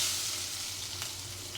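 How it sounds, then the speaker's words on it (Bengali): Two dried red chilies fry in hot oil with a steady, close, crackling sizzle throughout. "এই যে 2টা শুকনা মরিচ দিয়ে দিলাম। শুকনা মরিচটা একটু টেলে নিয়ে তারপরে পেঁয়াজ দিয়ে দেব।"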